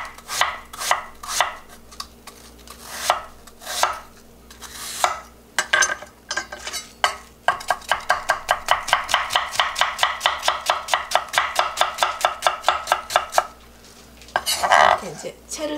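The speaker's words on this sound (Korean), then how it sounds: "이렇게 이제 채를 썰어서 만들겠습니다." A knife chops apple into thin strips on a cutting board for apple jam, starting with a few spaced cuts and then settling into a fast, steady run of crisp, close taps.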